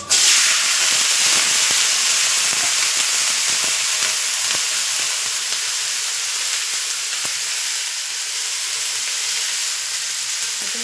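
Loud, steady sizzling of chilies frying in hot oil with asafoetida for lemon-chili pickle, a continuous crackling hiss throughout with occasional sharper pops.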